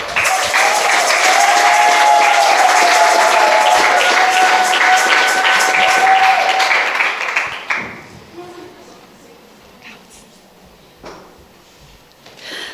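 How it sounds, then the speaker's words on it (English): An audience at a conference session on gender-responsive climate action gives warm, full applause for about seven seconds, then it fades to scattered claps and quiet room noise. "Can they get a warm applause from everyone?"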